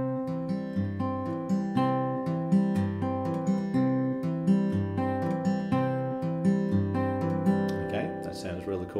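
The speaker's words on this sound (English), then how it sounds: "So I could take that and put in my 5-4-6-4 bass pattern that we did earlier, and that would sound like this." Acoustic guitar clawhammer fingerpicking, a steady alternating 5-4-6-4 bass pattern with pinched treble notes, played close and clean in an even repeating rhythm with no talking.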